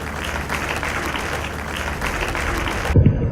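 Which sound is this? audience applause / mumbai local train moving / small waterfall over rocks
audience applause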